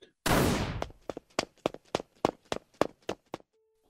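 A starting gun fires at a race with one loud sharp crack that rings out briefly, followed by a quick, even run of footfalls like runners sprinting off.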